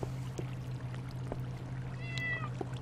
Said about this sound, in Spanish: Y los gatos que suenan